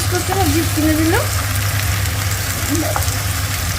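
Garlic frying in hot oil in a pan with potatoes, a steady low sizzle under a faint voice speaking at moments.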